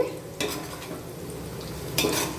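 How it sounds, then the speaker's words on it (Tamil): Ingredients for mutton biryani sautéing in a pan: a steady frying hiss runs throughout, broken by two sharper bursts of a spoon scraping and stirring against the metal. "இவ்வளவு வதங்கியிருக்கு. இன்னும் கொஞ்சம் வதங்கணும்."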